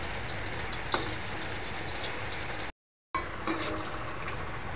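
Rava-coated raw banana slices frying in oil on a low gas flame, a steady soft sizzle that runs throughout at close range, with a brief dropout partway through.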